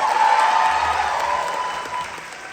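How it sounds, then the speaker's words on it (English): An audience claps for soloists in a school district faculty band, a dense wash of applause that starts strong and slowly thins out over a couple of seconds. "You can clap, clap, clap."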